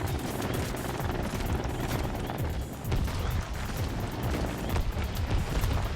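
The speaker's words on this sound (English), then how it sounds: "Drop one there. And fly away because they start to fire." Ground mortars firing in the Trailmakers video game, a dense run of booming blasts and rumbling explosions that keeps a loud, continuous barrage going throughout.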